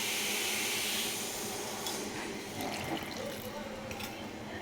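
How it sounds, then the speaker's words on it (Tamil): Water is poured from a tap into a mixer grinder jar in a home kitchen, a steady splashing fill that runs throughout. "இப்போ ஜாரை கழுவி கொஞ்சம் தண்ணி ஊற்றிக்கலாம்"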